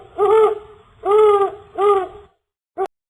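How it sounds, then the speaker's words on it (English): An owl hoots three times in a slow, even rhythm, each call loud and near, followed after a pause by a short, clipped fourth note. "Piercing owl sound."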